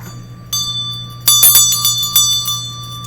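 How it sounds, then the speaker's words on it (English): A small desk bell rung to open a class session: a faint ding at first, then a quick series of about five bright metallic rings with shimmering overtones, close and clear over a steady low hum. "So I am going to ring my bell."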